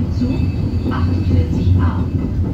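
Vienna tram line 46 rolls past in the 16th district with a steady low rumble and faint wheel noise, while a station announcement plays over the top.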